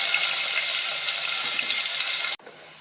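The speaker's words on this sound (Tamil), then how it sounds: "இந்த உருளைக்கிழங்கை எண்ணெயில் நல்லா ஃப்ரை பண்ணிடலாம்." Potatoes frying in hot oil give a loud, steady, dense sizzle that runs unbroken, then drops off sharply near the end to a quieter hiss.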